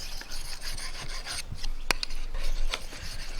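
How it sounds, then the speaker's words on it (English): A knife edge is polished on the fine side of a sharpening stone for bushcraft, giving close, repeated rasping strokes that scrape steadily with no talking. "I turn the stone over to the fine side and polish the edge with this side of the stone in exactly the same way"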